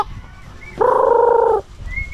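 A single drawn-out, tonal pigeon call lasting under a second, fairly close, with quiet background before and after.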